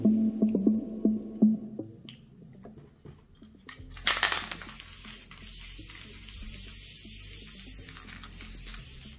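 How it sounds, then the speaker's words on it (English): A spray paint can with a freshly unclogged nozzle lets out a loud, close, continuous hiss that starts partway through and holds steady to the end, after some faint tapping and handling. "it sprays okay right now"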